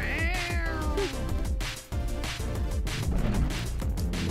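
A cat meows repeatedly in Super Crush KO, drawn-out game-sound meows over busy, loud rhythmic music and effects that continue throughout.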